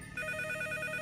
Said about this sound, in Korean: 전화벨이 울렸습니다.